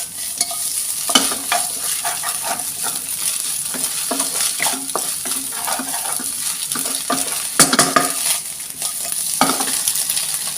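Small chopped mushrooms stir-fry in a hot pan, with a continuous close sizzle and frequent scraping, clattering strokes of a spatula against the pan.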